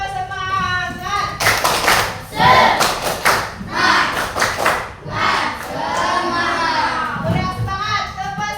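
Children in a classroom doing a rhythmic spirit clap, bursts of sharp group clapping in patterned counts alternating with a teacher's voice and kids' chatter.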